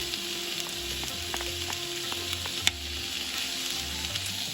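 Onions, halved cherry tomatoes and minced garlic sizzle steadily in a hot pan, a dense continuous frying hiss with occasional stirring clicks and one sharp knock, close and fairly quiet.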